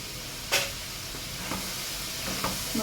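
Chopped tomatoes cooking in a covered pan for a bitter gourd curry, a steady soft hiss of simmering with a few faint clinks and small pops, close and alone.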